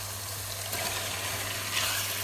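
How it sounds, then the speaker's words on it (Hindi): Chicken frying in hot masala in a pan for chicken cholay, a steady low sizzle with faint stirring and a hum underneath, building slightly louder toward the end. "अब मैं इसमें चिकन डाल रही हूँ"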